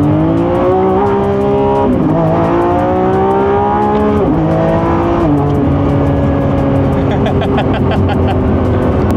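Lamborghini V12 hybrid engine in sport mode, loud and close from inside the cabin, rising hard through the revs with sharp drops at each gear change of the 8-speed transmission, climbing again toward a high-pitched wail.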